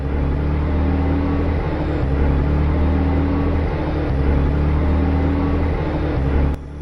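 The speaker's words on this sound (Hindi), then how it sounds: "हमारी गाड़ी खुद ब खुद चालू हो गई है।" A car engine idles steadily in a spooky forest scene of a horror drama, a low continuous rumble with slight rises in revs, close and alone with no talk, cutting off abruptly near the end.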